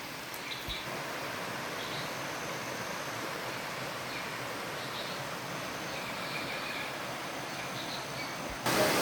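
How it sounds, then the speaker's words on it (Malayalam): Steady broadband rush of a small waterfall flowing through a hill estate in Peermade, Kerala, continuous and fairly close with no voices. "നമ്മുടെ സ്ഥലത്തിൽ കൂടെ തന്നെ ഒഴുകുന്ന ചെറിയ വെള്ളച്ചാട്ടമാണ് കേട്ടോ"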